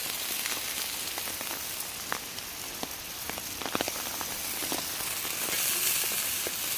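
Rain falling in Sherwood Forest, probably drumming on a tarp, as a dense steady hiss with many close crisp drops scattered through it, loud and continuous, with no talking.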